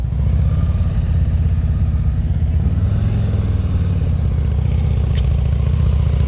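A motorcycle ridden at slow speed during a riding skills practice session in Ohio, a loud continuous low engine rumble with slight throttle variation and clatter, close by, no talk.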